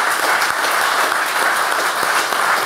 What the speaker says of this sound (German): ich würde jetzt vielleicht selber zunächst mal einen Applaus geben